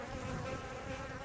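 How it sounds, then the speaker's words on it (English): A swarm of honey bees caught at a house hums in a dense, continuous buzz, close and steady with no pauses, alone without any voices. "this is a swarm that I caught at my house"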